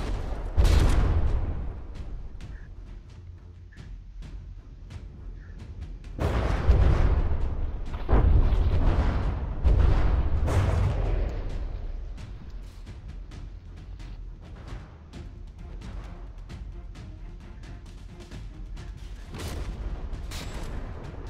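Shells strike a warship in the naval combat game From the Depths, a string of heavy booming explosions with long rumbling tails, loud at first, then recurring in bursts.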